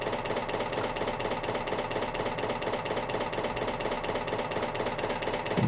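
Simulated torsional engine noise on an automotive RPM meter set to about 500 RPM: a steady, dense mechanical chatter with a rapid knocking, sewing-machine-like pulse that holds at an even level throughout.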